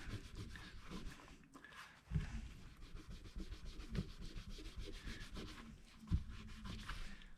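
A fret cloth rubs back and forth over the frets of a guitar under construction, making soft continuous scratchy scrubbing strokes, close but quiet, with occasional faint thumps and no talking.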